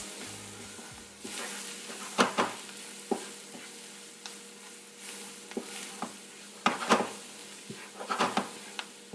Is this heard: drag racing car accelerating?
no